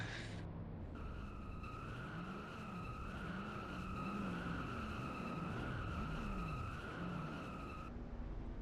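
Race car tyres squeal continuously through a burnout in an auto racing video game set at Homestead, with a wavering skid pitch over a steady engine drone, loud and close.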